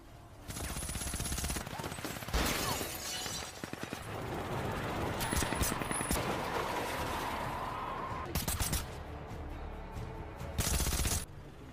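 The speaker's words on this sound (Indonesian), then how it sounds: "Lalu adegan baku tembak kembali terjadi" Rapid bursts of automatic gunfire and single shots from a film shootout, with soldiers in disguise caught at a bridge checkpoint, loud and sustained through dense battle noise with brief lulls.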